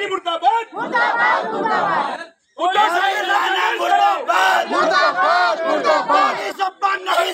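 Shiv Sena protesters chant slogans at Chikhali square in East Nagpur. A loud crowd of many voices shouts in rhythmic unison, pauses briefly, then resumes with dense overlapping cries.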